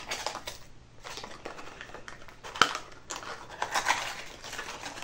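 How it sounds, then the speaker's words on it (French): Plastic packaging around a small kabuki makeup brush is crinkled, torn and snipped open in a steady run of close rustles and scratchy crackles, with a sharp click partway through. "Je déballe le bidule."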